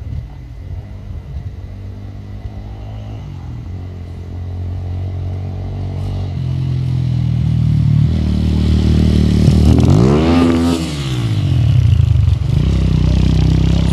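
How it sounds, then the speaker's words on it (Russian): Motorcycles ridden by bikers through a village street in winter rumble loudly and rev, rising into a strong close pass by with a sweeping pitch change before fading slightly. "Вот наши рокеры гоняют на мотоциклах."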